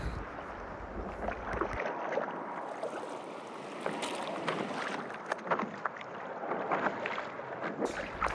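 Stand up paddle board being paddled on open water, with soft, faint paddle swishes and gentle splashing under steady wind noise.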